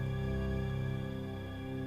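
Looped movie soundtrack sample held as a background pad, a sustained, softly wavering drone with a gentle periodic pulse, quiet and without voices.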